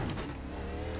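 A NASCAR Xfinity car in the iRacing video game at Richmond, its simulated engine a steady, loud, close droning roar held for about a second with no talk.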